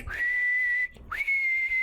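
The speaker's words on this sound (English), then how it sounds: "And you hear the whistle go off again." A whistle blows two long steady blasts separated by a short gap, loud and clear with nothing else around it.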